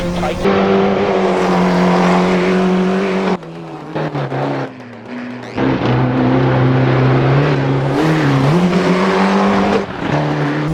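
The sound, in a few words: rally car driving in video game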